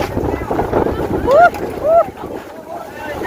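Strong storm wind gusting outdoors at a Thai merit-making food festival, buffeting the microphone in a steady roar while people talk and shout nearby.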